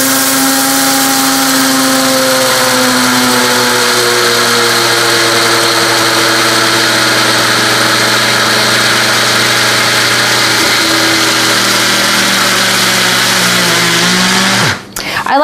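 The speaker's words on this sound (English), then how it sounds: "now I'm gonna take my sesame seeds and I'm going to grind them in my grinder" A countertop grinder whirs steadily while grinding a little over half a cup of sesame seeds, a loud continuous motor drone with shifting pitch before it cuts off abruptly near the end.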